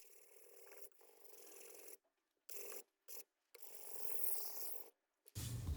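A Japanese kitchen knife is sharpened on a 400 grit Chosera whetstone, producing close, soft rasping strokes broken by brief silent pauses between passes.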